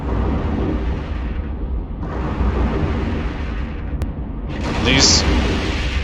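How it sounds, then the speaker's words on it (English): Weapon fire pounding a ship in the space game EVE Online: a dense, continuous rumble of deep booms and blasts, loud and sustained with brief swells, ending in a sharper burst. "I'm eating a lot of weapon fire now"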